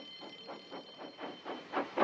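A small steam tank engine hauling a breakdown train puffs in a steady rhythm, about eight regular chuffs in two seconds that grow louder as it approaches, with a faint high whistle tone running underneath.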